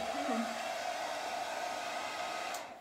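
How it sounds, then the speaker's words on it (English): A hair dryer runs steadily at close range with a constant whirring roar and a high airflow hiss, holding the same level throughout before easing slightly at the very end. "you wouldn't be able to hear us because she had your hair dryer on"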